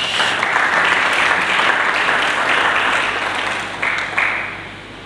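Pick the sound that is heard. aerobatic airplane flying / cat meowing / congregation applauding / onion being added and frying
congregation applauding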